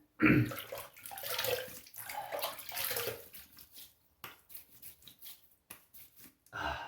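Water runs from a tap while the face is wetted before a shave, a close splashing rush broken by brief gaps and wet hand sounds, with a few short drips and splashes near the end.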